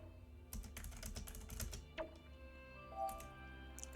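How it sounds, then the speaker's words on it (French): Soft keystrokes on a computer keyboard clatter in short bursts and scattered single taps during a quiet gaming session, fairly faint and close, with no one speaking. "J'espère aussi que les bruits de clavier sont pas trop agressifs."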